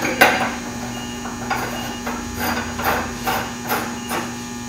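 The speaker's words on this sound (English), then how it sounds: "The rack dome is threaded. You just screw it into the base" A threaded metal rack dome is screwed into the shaft base of a Hockmeyer HM 1/16th MicroMill. Repeated short metallic scrapes and clinks ring out over a steady electrical hum.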